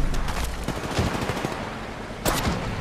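Rapid gunfire bursts crack through a firefight in the mobile battle royale Apex Legends Mobile, with dense repeated shots, some nearer and louder, continuing steadily under game effects.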